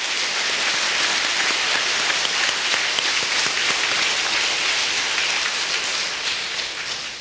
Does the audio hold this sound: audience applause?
yes